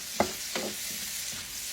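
Zucchini and mushrooms sauté in olive oil and butter, a soft steady sizzle with a couple of sharp stirring scrapes near the start, close and unaccompanied by voices.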